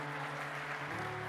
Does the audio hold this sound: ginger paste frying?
no